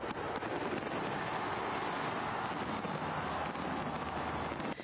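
A dense, continuous rumble of New Year fireworks exploding in the distance over the Champs-Élysées, crackling and booming without pause, loud and steady throughout.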